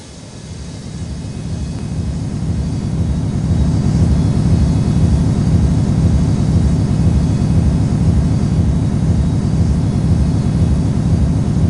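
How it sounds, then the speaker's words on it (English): A jet airliner takes off from runway 22 right at Newark airport, its engine roar swelling over the first few seconds into a loud, steady broadband rush that holds to the end. "Cleared for takeoff runway 22 right"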